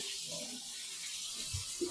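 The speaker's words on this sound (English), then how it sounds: "You see, the water is coming through now." Water from the fill system runs into a Japanese bathtub as a soft, steady hiss of flowing water, faint and continuous, with a few low gurgles under it.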